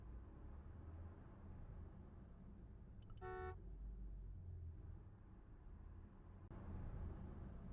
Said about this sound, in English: Other than vehicle honking noises.